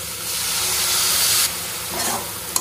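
Vegetables fry in a pan as a splash of water goes in, giving a loud, steady sizzling hiss that drops off suddenly, then a second, softer burst of sizzle.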